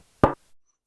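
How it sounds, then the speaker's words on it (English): One sharp knock on the wooden body of a piano, sampled for use as a snare: a short, close, dry hit followed by a faint soft echo, then silence. "The piano knocking."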